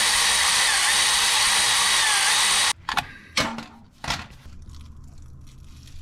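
A power tool unbolts parts under a Nissan G35 during a clutch and flywheel job. It runs loud and continuous for a few seconds, stops abruptly, then fires in three short, sharp bursts close by.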